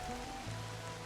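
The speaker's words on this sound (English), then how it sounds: "I love how refreshing the cool raindrops feel." Rain falls in the video game Infinity Nikki, a steady soft hiss of raindrops pattering on surfaces, even and continuous, with faint tonal game music underneath and no talk.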